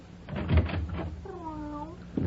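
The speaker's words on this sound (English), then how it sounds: "This little white kitten." A little white kitten gives a single short, clear meow after a few soft knocks and thumps, heard indoors at close range.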